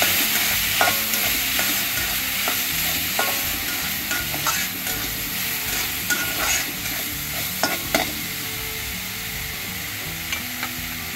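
A spatula stirs a chilli-powder spice mixture in a frying pan while making broad bean (ghevda) bhaji, with repeated scraping strokes over a steady close sizzle and no talking.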